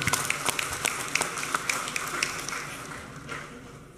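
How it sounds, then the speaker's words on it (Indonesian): Applause in a provincial council plenary session at the swearing-in of 120 Central Java council members, a scattered, moderately distant patter of hands that thins out and fades over a few seconds. "Tepuk tangan sekali lagi."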